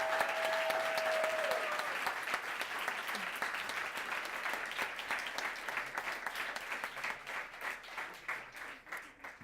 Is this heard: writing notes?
no